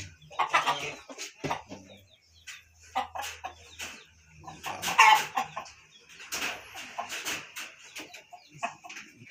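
A sick chicken with laboured breathing makes soft, repeated clucking and raspy, wheezy breathing sounds, close by, with quiet pauses in between.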